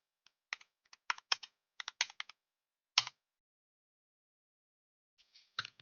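Keys clack on a Logitech G915 TKL low-profile mechanical keyboard in quick irregular bursts, a pause of about two seconds, then a few more close, crisp keystrokes.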